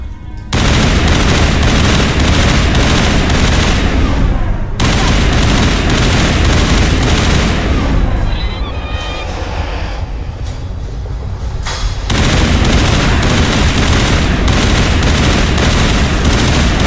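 Heavy continuous automatic gunfire in the Mass Effect video game, a loud relentless stream of shots that drops away briefly in the middle before resuming at full intensity.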